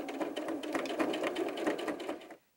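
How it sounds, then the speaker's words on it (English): Sewing machine stitching fabric for 18-inch doll clothes, a fast steady rhythmic whir of needle strokes, close and loud, running continuously for a couple of seconds before stopping abruptly. "We're going to finish sewing this side, and then we're going to sew the other arm as well."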